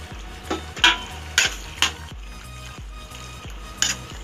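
A spoon stirs a Maggi noodle and boiled pasta mixture in a cooking pan, giving a few scattered scraping clinks against the metal over a low steady background hum.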